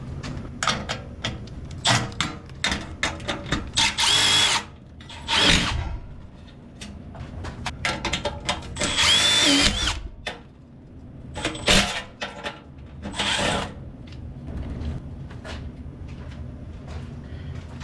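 A drill spins out sheet metal screws from a gas water heater's flue pipe in short, irregular bursts of whirring and rattling metal, close and moderately loud, separated by brief pauses.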